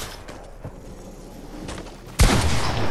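A burst of gunfire erupts in a video game match, a sudden loud volley after quieter scattered sounds, with faint shots and noise before it.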